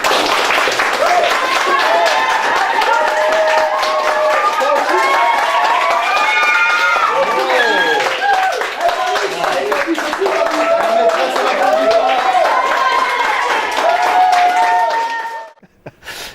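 Film crew and cast on a student short-film set applauding themselves as the shoot wraps: loud, close, sustained clapping for about fifteen seconds, mixed with laughter and lively chatter, then cutting off abruptly.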